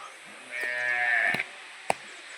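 A female buffalo calf on a farm lets out a single drawn-out moo lasting about a second, close and clear, followed by a couple of brief knocks and a sharp thump.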